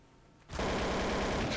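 Gunfire in Garry's Mod gun-game deathmatch: after a quiet moment, a sudden loud burst of rapid shots rings out close by and sustains to the end, with no talk over it.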